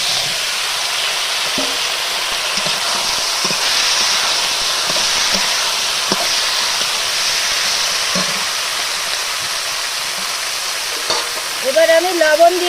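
Eggplant pieces fry in oil with onion and black cumin seed tempering, a steady close sizzle broken by scraping stirs and occasional clinks of the utensil against the pan, with no talk.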